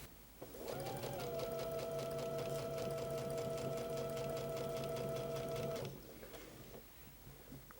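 Up close, a sewing machine stitches a pieced quilt seam with silk pins in one steady, continuous run of about five seconds, a rhythmic whirring hum that starts abruptly and stops cleanly, with quiet room sound either side.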